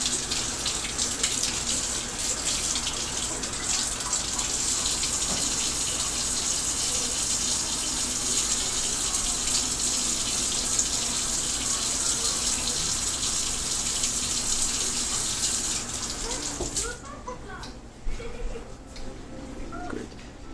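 Cold water runs hard and steadily from a tap in a workshop for around seventeen seconds, close and loud, then shuts off, leaving faint dripping and handling noises.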